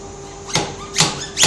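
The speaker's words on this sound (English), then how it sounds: "Gently hammer the forks" Three gentle, evenly spaced taps of a hammer on motorcycle forks knock out the seals and bushes, each a short metallic knock over a faint background hum.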